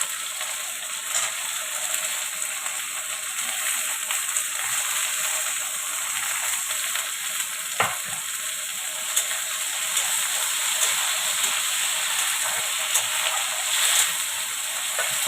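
Tomato tipped into a hot pan for egg curry sizzles and fries in a steady, close hiss that runs throughout, with a few small clicks and stirring knocks.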